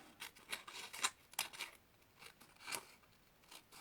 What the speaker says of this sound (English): So let's just go with a pair of scissors.